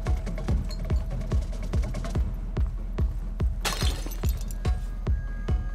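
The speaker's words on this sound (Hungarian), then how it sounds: "Tetszik, ahogy így felrúgja a kezébe az üveget." A glass bottle shatters during a fistfight in the martial-arts game Sifu: a bright, crashing burst of breaking glass midway through, set against steady rhythmic thumps and hits that run throughout.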